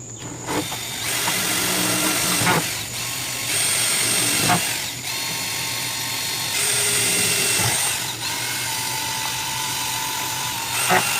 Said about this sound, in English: I'll pre-drill my holes.